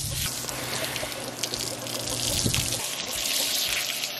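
Steady running water rinsing a horse during grooming, a continuous close splash and trickle like a hose or tap flow, with no talking.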